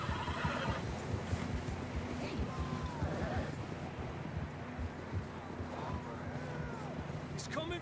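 Horses in the Red Dead Redemption 2 video game give two distinct whinnies over a low rumble of wind or water in the outdoor scene, with voices talking faintly at times.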